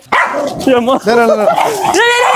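A pet husky dog in a family home barks and yips loudly and close up, a few rough bursts that trail into whiny, yodel-like howls.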